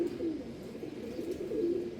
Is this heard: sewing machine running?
no